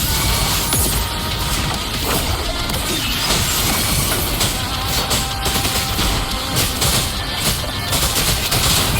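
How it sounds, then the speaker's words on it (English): Loud, continuous barrage of mortar blasts and crashing impacts in the video game Wuthering Waves, dense overlapping booms and shattering debris filling the whole stretch with no pauses. "Another mortar thrown at us."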